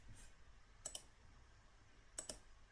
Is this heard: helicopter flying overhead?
no